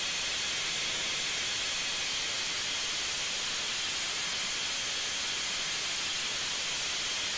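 Safety valve blowing off on an AT&N Consolidation steam locomotive in Train Simulator 2015, Raquette Lake Railway: a loud, continuous roaring hiss of escaping steam holding steady throughout.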